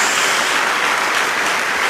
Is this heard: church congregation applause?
yes